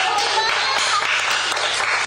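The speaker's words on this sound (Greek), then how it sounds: "Σας χειροκροτώ όλους." Dense applause fills a swearing-in ceremony for newly appointed primary school teachers in Boeotia, Greece: many hands clapping steadily and fairly close for about two seconds, with no speech over it.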